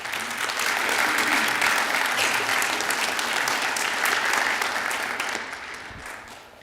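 Sustained round of applause from a town council meeting audience honoring water and wastewater staff, steady and fairly loud throughout before tapering off at the end.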